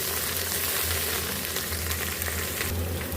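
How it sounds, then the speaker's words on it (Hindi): Onion, crushed garlic, ginger and green chilli fry in a pan for a green bean keema dish, giving a dense, steady sizzle that holds at an even loudness throughout, close by and with no talking. "अब इसमें हम ये लहसुन, अदरक और हरी मिर्च कुटी डाल लेंगे और इसको हम अच्छे से मिक्स कर लेंगे।"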